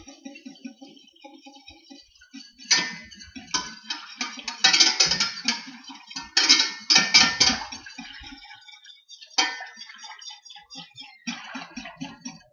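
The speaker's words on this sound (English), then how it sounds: "Give it a quick whisk." A whisk beats a sauce mixture in a bowl while making pan-seared blackened salmon. Faint scraping leads into bursts of rapid, rhythmic clattering strokes that are louder in the middle, then fade and return briefly near the end. No one speaks.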